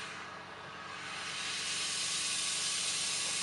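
An oxyacetylene torch burns with both gas and oxygen on, producing a steady, broad hiss that grows slightly louder and then holds constant, close by and without speech.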